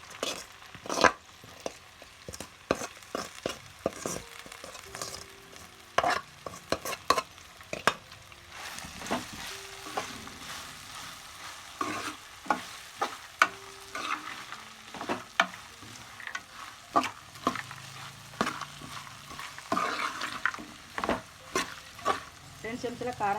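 Fried okra pieces are stirred in a hot pan with garlic paste and turmeric, a soft background sizzle punctuated by repeated sharp scrapes and clacks of a spoon against the metal, with occasional talk nearby.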